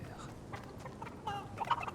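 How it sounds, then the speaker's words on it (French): Chicken clucking in the Fortnite video game, short gobbling, clucking calls heard quietly over game background noise for about two seconds. "La poule! La poulette!"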